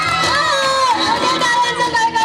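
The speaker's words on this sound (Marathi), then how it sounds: "टाळ्यांचा कडकडाट होऊ द्या" A crowd cheers and shouts for Salman Khan's entry at a live event, a loud, dense wall of excited voices that swells and dips without pause.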